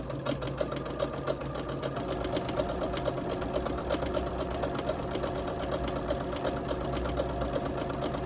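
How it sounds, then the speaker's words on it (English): A sewing machine stitches quilt pieces for a Carpenter Star block, running continuously with a fast, even mechanical rattle and close, steady needle clatter. "I'll sew that line on the other side of that line we drew."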